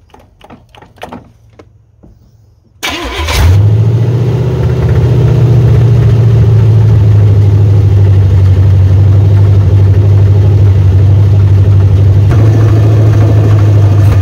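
A 1986 Chevy Silverado truck engine starts up and settles into a loud, steady idle with a deep constant drone, after a few brief clatters and clunks at the start.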